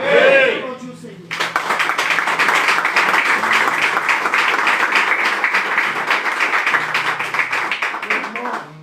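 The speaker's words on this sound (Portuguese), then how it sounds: "Aplaudir o Senhor." A church congregation claps together in sustained, dense applause for about seven seconds after a brief spoken lead-in, fairly loud and steady throughout with a faint voice underneath.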